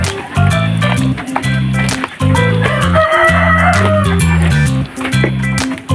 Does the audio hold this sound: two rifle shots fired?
no